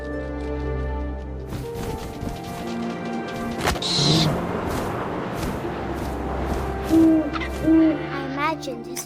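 Owl hooting in the video game What Remains of Edith Finch, a few soft hoots over a wind-like ambience with a narrator's voice speaking over it.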